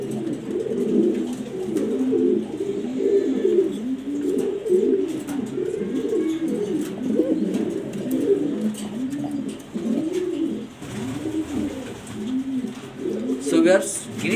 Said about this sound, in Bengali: গ্রিজাল কবুতর খুবই সুন্দর আনকমন